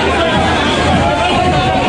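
Jubilant crowd gathered at Ahmed Sékou Touré International Airport to greet a star singer, a dense, steady babble of many voices chattering and cheering together, loud and close, with no distinct words standing out.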